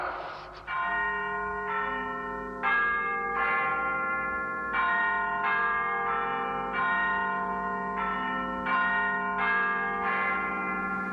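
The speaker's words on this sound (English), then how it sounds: "Big Ben's chimes made Macey realize he'd been out some time." A large clock tower bell chimes a slow melodic sequence of resonant strikes, each ringing out and overlapping the next.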